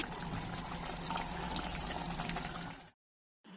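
Continuous gentle pour of water into simmering fish curry gravy for Pabda fish, a soft steady liquid rush close by that cuts off abruptly near the end.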